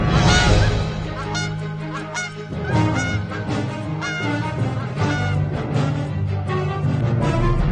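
A flock of geese honks loudly and repeatedly in a dense, overlapping chorus, with raucous calls near and continuous throughout and a brief dip before the honking resumes.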